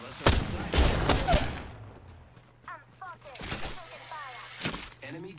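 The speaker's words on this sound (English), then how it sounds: "I'm spotted. Taking fire." Incoming gunfire in Apex Legends on PS4, several loud cracking shots and bursts near the start, then lighter scattered impacts amid game effects and chirping tones, with spoken lines partly over it.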